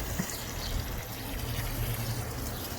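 Water pours onto a hot compost bin after turning, a continuous close splashing and trickling stream with no voices.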